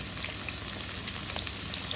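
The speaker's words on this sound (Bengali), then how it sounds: "মাছ ভাজার তেল ছিল দিয়ে দিচ্ছি, আর একটু দিব, বেশি দিব না। দিয়ে দিলাম পেঁয়াজ" Onions frying in leftover fish-frying oil for a rohu, cauliflower and potato curry give a loud, steady, close sizzle with crackling that runs unbroken throughout, and no one speaks.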